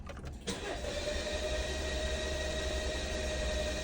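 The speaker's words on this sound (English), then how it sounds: "Please start the engine." A 2020 Jeep Compass FWD with a P0335 crank sensor fault cranks and catches after a short quiet moment, then settles into a steady idle with a constant hum, close and loud, with no voices.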